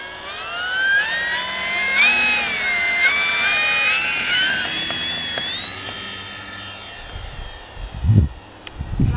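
An FMS 1450mm P-51 Mustang RC model plane takes off with half flaps, its electric motor whining up in pitch and fading as it climbs away, followed by gusty wind buffeting near the end.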